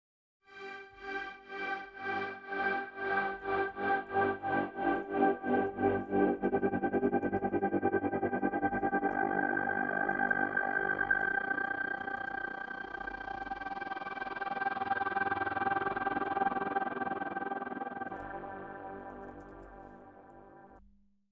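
A synthesized tone with a smooth sine-like oscillation pulses rhythmically at first, then swells into a sustained, slowly shifting drone that fades out at the end, with no voices.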